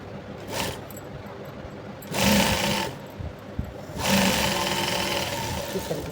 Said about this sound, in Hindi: तो इस तरह से हमने जोड़ के दाब सिलाई मार दिया